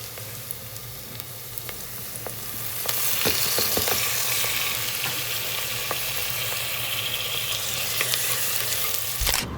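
Masala-coated liver sizzles and fries steadily in a pan, the hiss growing louder partway through, with occasional sharp clinks of a spatula stirring, no voices.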